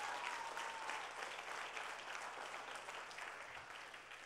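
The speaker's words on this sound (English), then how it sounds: "Clap those hands unto God" A church congregation claps hands together in steady, dense clapping at worship, filling the room evenly throughout with no talking over it.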